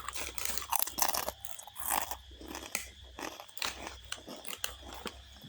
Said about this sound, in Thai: ทุกคนฟังเสียงเคี้ยวนะคะ